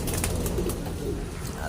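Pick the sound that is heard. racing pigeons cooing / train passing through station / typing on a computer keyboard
racing pigeons cooing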